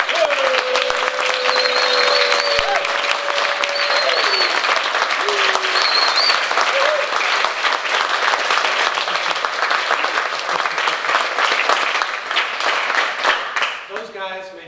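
A standing audience at a conference wrap-up gives a long, loud, steady ovation with dense clapping, a few whistles and cheers on top, before it thins out and fades at the end.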